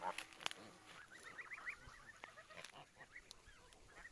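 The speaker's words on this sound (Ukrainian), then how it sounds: "То дві гуски." Geese honk softly in a scattered series of nasal calls, fairly faint and somewhat distant, with light background noise and a few clicks.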